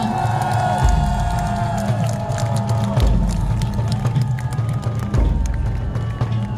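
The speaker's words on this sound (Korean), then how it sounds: "손학규 전 경기도지사께 다시 한번 큰 박수 부탁드리겠습니다" An outdoor campaign finale rally at Seoul City Hall Plaza, with a large crowd cheering, whooping and applauding in a loud, continuous wash and deep rumbling swells of noise underneath.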